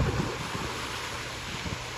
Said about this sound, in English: Coast Guard boat there spraying water.